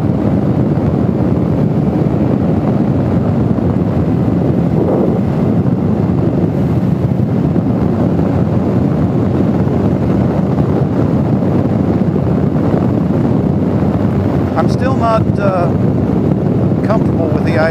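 Steady, loud wind buffeting the microphone while riding an Indian Scout Bobber Twenty motorcycle on an Oklahoma road, a continuous low roar that drowns out other detail.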